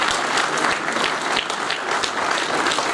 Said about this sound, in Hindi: भरपूर तालियां बजाइएगा